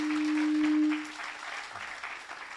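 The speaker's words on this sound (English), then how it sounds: "A bigger round of applause for both ladies" Applause for two ladies at a grand opening ceremony for a manufacturing and engineering centre, a steady wash of clapping from a crowd lasting a couple of seconds, with a sustained tonal hum near the start.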